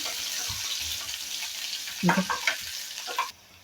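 Garlic and curry leaves fry in hot oil in a home kitchen, a steady hiss broken midway by louder crackles and pops as the pan is stirred, before the sound cuts off abruptly.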